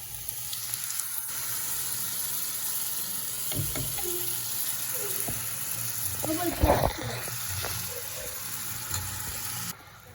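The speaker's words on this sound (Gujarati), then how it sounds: "હવે હું આની અંદર નાખી દઈશ જે ટમેટો પ્યુરી મેં કરી હતી એ." Tomato puree poured into a hot pan of sizzling spices sends up a steady, close frying hiss, with a brief louder splatter burst near the middle before it settles back.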